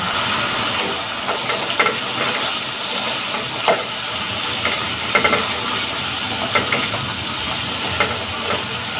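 Tofu fries in melted sugar in a pan, giving a steady close hiss and sizzle with scattered small pops and spatters throughout, no voices.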